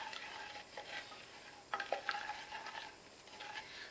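Butter and sugar melting in a pan for a pineapple upside-down cake, with soft sizzling and a utensil scraping and clinking as it stirs, quiet and close with no talking.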